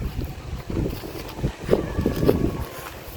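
Gusty wind buffets the microphone in uneven low rumbling bursts, with a faint thin tone drifting in the background.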